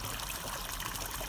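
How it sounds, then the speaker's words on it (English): Warm lake water trickles and splashes steadily into a cattle water trough, a close continuous flowing sound with no voices. "that warm water coming in from the lake minimizes ice formation"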